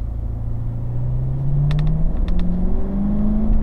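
A Chevrolet Corvette C7 Stingray pulls out onto a racetrack, its engine rumbling steadily and rising in pitch as it gradually builds pace, with a few short clicks partway through.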